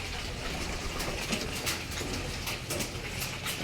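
Pigeons gather at a loft amid a dense, continuous bed of cooing and rustling wing noise, with scattered sharper flutters and calls rising above the steady outdoor backdrop.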